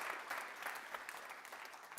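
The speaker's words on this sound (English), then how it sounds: "that's worth applauding for sure" Church congregation applause during a service, faint and distant, a soft continuous patter of clapping with no talk over it.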